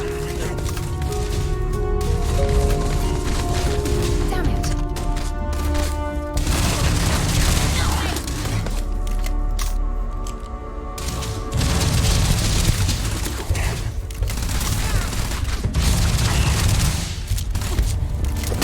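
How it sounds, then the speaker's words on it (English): Dense bursts of gunfire from the sci-fi shooter game Starfield, with rapid automatic volleys and heavy booms crowding the whole stretch, loud and continuous with only brief lulls. "I'm gonna turn it up so, you know, you can hear some of the gunplay"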